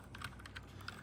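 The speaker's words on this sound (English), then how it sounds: "Little Bluetooth keyboard." Quick, light keystrokes tap on a small Bluetooth keyboard, a brief close-up run of soft clicks in a quiet room.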